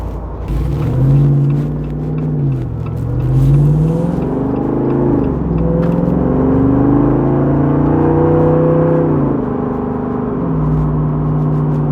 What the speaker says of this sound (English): Acceleration is strong.